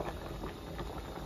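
Spicy beef tendon stew with dark soy sauce, salt, oyster sauce and thirteen-spice powder simmers in a covered pot over low heat, giving a steady, close, dense bubbling that runs without pause.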